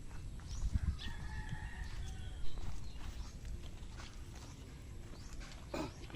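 Chickens cluck and a rooster crows intermittently outdoors on a farm amid a steady rustling background, the birds moderately distant and irregular.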